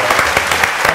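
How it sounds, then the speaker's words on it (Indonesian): Close, loud hand clapping in a barbershop talk setting, a brief burst of several people clapping with distinct rhythmic claps standing out. "Boleh tepuk tangan"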